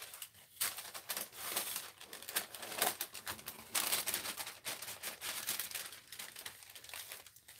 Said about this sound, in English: I'm using wax paper as my palette.